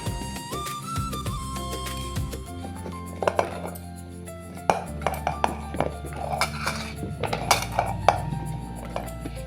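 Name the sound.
chopped vegetables being tipped into a pressure cooker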